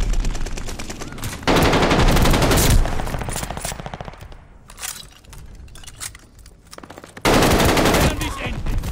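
KG 40 machine gun firing in Call of Duty Vanguard, loud sustained automatic bursts in two long strings with quieter gameplay noise and distant shots between them.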